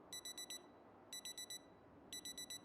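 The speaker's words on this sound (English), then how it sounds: "I have a fucking alarm clock in the pile" A video game alarm clock buried in a pile rings in three evenly spaced bursts of four quick high beeps, faint and thin over a soft background hiss, with no talking.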